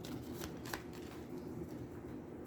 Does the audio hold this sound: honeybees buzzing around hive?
no